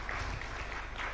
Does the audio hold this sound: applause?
yes